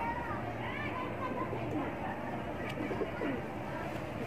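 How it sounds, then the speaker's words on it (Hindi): A pigeon coos softly among other birds outdoors, low murmuring calls under a constant background of chatter and distant voices. "यह कबूतर है माशाल्लाह"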